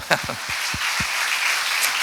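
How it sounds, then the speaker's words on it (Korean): A church congregation claps during a Sunday service, a few distinct beats followed by a brief, fairly loud wash of applause. "박수 한번 하고"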